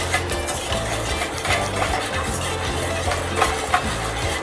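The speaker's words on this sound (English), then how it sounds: "And whisk it. Melt it nicely." Chocolate and milk being whisked as they melt in a pot, with a steady scraping, stirring rhythm and light clinks of the whisk against the pot, continuous and close.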